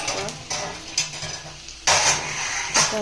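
Eggs frying in a pan are stirred and turned, with metal scraping, clinking and a steady sizzle coming in bursts close by.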